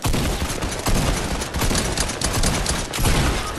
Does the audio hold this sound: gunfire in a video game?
yes